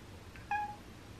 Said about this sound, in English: I just opened the can and Boo immediately started meowing.